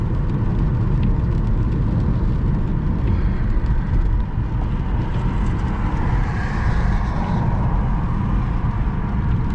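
A car drives out of the city along Stoletiya Vladivostoka Avenue in Vladivostok, a steady loud road rumble and engine drone filling the whole stretch with no letup.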